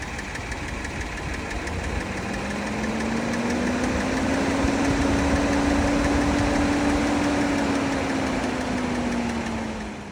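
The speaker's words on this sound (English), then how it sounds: "This engine has a tendency of ticking randomly, and it's something that owners have voiced concerns about." A 2024 Kia Telluride engine idles with a steady mid-pitched hum and a faint, fast ticking running through it, a slow rising and falling tone swelling near the middle, with no talking.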